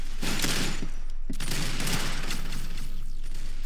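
Video game gunfire, a dense, loud run of rapid shots and blasts that fills the whole stretch with only a brief pause.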